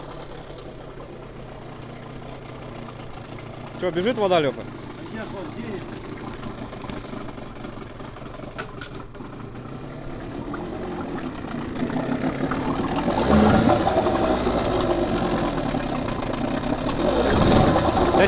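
A Hangkai 9.8 outboard boat motor runs steadily with a rising drone, people talking loudly over it outdoors.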